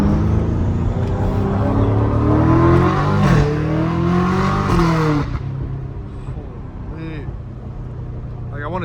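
A BMW M5 Competition engine with a catless titanium exhaust revs hard with a deep, raspy exhaust roar that rises and falls, then settles to a lower idle rumble, heard from inside.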